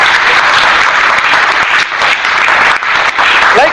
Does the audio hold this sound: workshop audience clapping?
yes